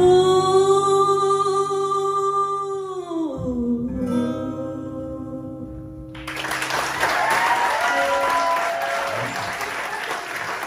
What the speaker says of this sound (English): Round of applause for Tasha